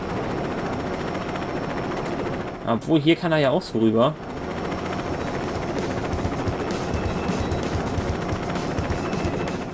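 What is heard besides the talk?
helicopter in LEGO City Undercover video game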